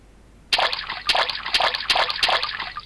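A stone skips across open water, making about five quick splashes in a row. The splashes are close and fairly loud over a light, steady watery trickle, with no voices.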